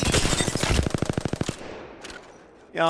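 Gunfire in the Apex Legends firing range, a rapid automatic burst of about a dozen even shots. It is followed by a trailing echo and a short final sound, with no talk over it.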